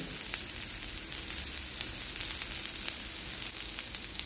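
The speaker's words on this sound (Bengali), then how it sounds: "হালকা তেলে বা হালকা বাটার বা ঘিতে আপনারা এটা গ্রিল করে নেবেন।" Lau chana dal kebabs grill in a pan with light oil, butter or ghee, giving a steady, even sizzle with faint crackling pops throughout.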